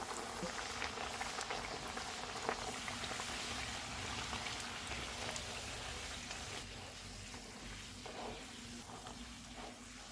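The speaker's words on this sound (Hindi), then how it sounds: "ऑयल गर्म हो गया, चूल्हे को कम कर देते हैं और इसमें पूरी डाल देते हैं।" Puri deep-frying in hot oil on a lowered flame, a soft steady bubbling hiss that runs on without a break, fairly faint and without speech.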